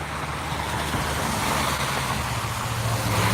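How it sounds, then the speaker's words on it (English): Steady traffic noise from a busy highway, a continuous, fairly loud broadband rush of passing vehicles with no breaks and no voices. "we live by a fairly busy highway. So we're gonna get a little bit of traffic noise"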